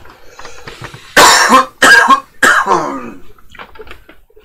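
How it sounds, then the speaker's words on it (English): Three harsh, loud coughs in close succession, followed by a few softer throat sounds. "I'm going to cough again"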